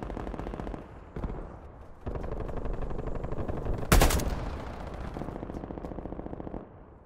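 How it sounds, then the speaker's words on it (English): FAMAS rifle gunfire in Call of Duty: Black Ops Cold War team deathmatch on the Satellite map comes as rapid bursts of shots with a sharp louder crack midway, loud and close, without talk. "I sniped the sniper with my FAMAS"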